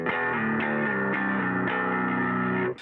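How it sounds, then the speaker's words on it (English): Bass guitar played through a Tube Screamer-style overdrive pedal, feeding a distortion pedal for a saturated, woody midrange tone; a sustained driven bass line with several note changes, loud and close, with no talking. "I'm mainly using it as a tube screamer, like most guitar players do with their heavy saturated amps"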